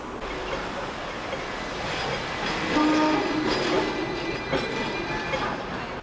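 A Hong Kong tram rumbles along with wheel clatter and a brief squeal, steady and close, like riding aboard.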